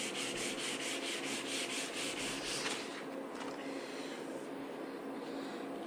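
Fine abrasive lightly rubbed over Lambretta scooter bodywork gives a steady, close, even sanding hiss with quick repeated strokes at first, then a smoother continuous rub, with no talking.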